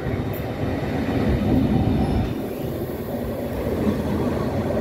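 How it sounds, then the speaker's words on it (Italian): An NTV high-speed passenger train passes through the station at Ferrara with a loud, steady rumble of wheels and carriages that swells slightly midway and holds throughout. No one speaks. "The NTV is the high speed train"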